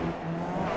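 MX-5 Cup race car in iRacing at the Nurburgring braking hard: a brief, close engine drone with a steady tonal whine and light tire scrub, no voices.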